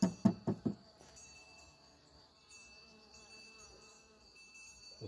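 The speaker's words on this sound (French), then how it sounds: "Il y a des abeilles qui rentrent et qui sortent." Honey bees buzz around a hive being prepared as a queen-rearing colony, a faint continuous hum with thin high tones, opening with a few sharp knocks before the buzzing settles steady.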